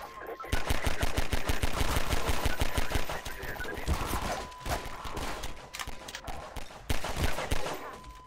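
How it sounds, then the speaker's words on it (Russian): Rapid bursts of automatic gunfire from Hello Neighbor in Garry's Mod, loud and rhythmic, with pauses and scattered single shots, and voices talking faintly underneath. "Отлично, Васильич, отличный выстрел."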